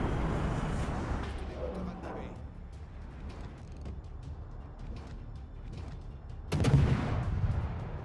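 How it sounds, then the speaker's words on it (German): The battleship Musashi fires its guns in World of Warships, a heavy booming salvo late in the clip rising above a steady rumbling game background with muffled low thuds earlier. "die Musashi schießen"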